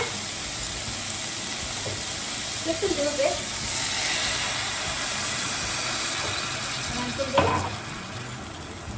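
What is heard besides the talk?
water added to tempeh frying in oil in a pan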